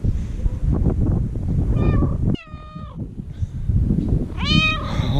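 A cat at the Petra ruins in Jordan gives three clear meows, spaced a second or two apart, close by over steady outdoor rustling and handling noise.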